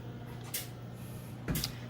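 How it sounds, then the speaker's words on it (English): The door of a 60 watt CO2 laser cutter opens with two faint, brief clunks of its latch and hinge about a second apart, over a steady low machine hum. "so now we're going to open up the door here."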